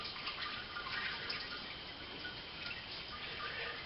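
Water trickling and draining from a bed of mashed grains in a small stovetop all-grain brew, a soft continuous patter of drips and thin flow, faint and steady with no voices.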